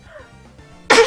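A single sharp, loud sneeze bursts out suddenly at the end after a quiet moment, heard during a Team Fortress 2 Prop Hunt game stream.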